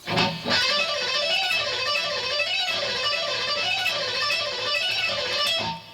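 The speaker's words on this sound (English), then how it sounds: "If you do 4 notes up and down and then 6 notes up and down" An electric guitar picks a rapid, continuous rock pattern of four and six notes up and down, looping evenly for several seconds at a steady, fairly loud level.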